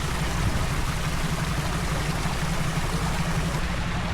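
Small waterfall along a central London walk, a steady, close, broadband rush of falling water filling the whole stretch with no pauses.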